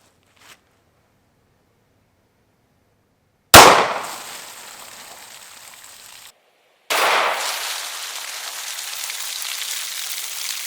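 Two loud 9mm full metal jacket shots fired into a target of meat and bone, a few seconds apart, each a sharp crack followed by a lingering noisy tail.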